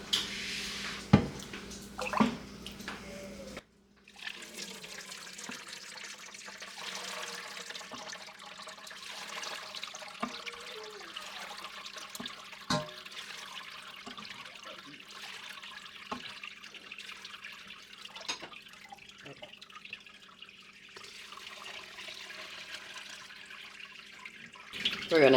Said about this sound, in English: So we have the same bowl, same colander, same milk bag. And now we're going to go ahead and strain this.